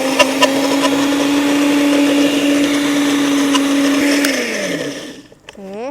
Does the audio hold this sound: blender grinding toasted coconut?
yes